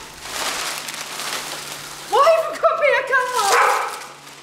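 A dog barks several times in quick succession close by, sharp harmonic yelps following a stretch of steady background hiss, with people talking nearby.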